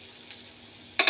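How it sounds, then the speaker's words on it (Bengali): Onions frying in a pan, a quiet steady sizzle close by that briefly swells louder near the end as the pan is stirred, with no talking. "এই যে পেঁয়াজটা ভাজা ভাজা হয়ে গেছে"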